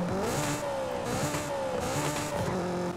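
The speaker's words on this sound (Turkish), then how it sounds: "Ama gene de şu arabanın stok sesi bile inanılmaz değil mi bak." Stock engine of a Honda S2000 in Forza Horizon 5 revving up and down repeatedly, a loud, close, rising and falling engine tone filling the whole clip.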